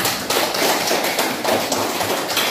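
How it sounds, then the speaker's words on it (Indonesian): A classroom group receives applause, heard as a dense, loud patter of many hands clapping together without a break. "Beri aplaus dulu untuk kelompok 4."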